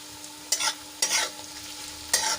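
Onions and potatoes sautéing in a pan for mung bean pulao, a steady soft sizzle broken by three scraping stirs of a spoon at regular intervals, close and fairly quiet.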